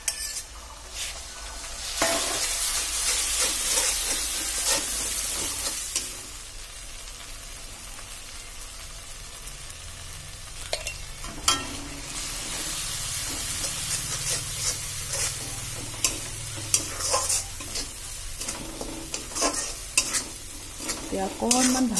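Ground dry fish mashed with garlic, ginger, onion and tomato paste frying in oil in a home kitchen pan, a loud continuous sizzle broken by repeated scraping stirs of the spatula, with no talking.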